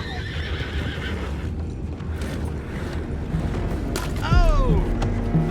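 Horses in Red Dead Redemption 2 whinny and snort over steady clip-clop of hooves and ambient game noise, with one loud, close neigh rising and falling near the end.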